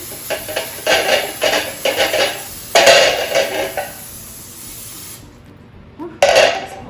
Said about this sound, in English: spray a Bundt Pan with oil or cooking oil spray